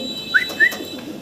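Two quick coos come from a single pigeon kept for sale, short and close, against a faint background hum.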